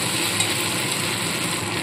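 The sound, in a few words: spices with ginger and cumin paste frying in pan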